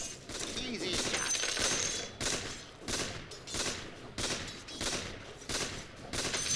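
Repeated sniper rifle shots from a Dota 2 match ring out in a steady run of loud cracks roughly every half second to second, with speech-like game sounds mixed underneath.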